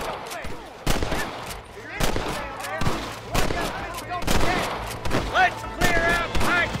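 Repeated gunshots in the Red Dead Redemption video game, sharp cracks landing about once a second in an irregular volley over a steady music bed, with a voice speaking at times among the shots.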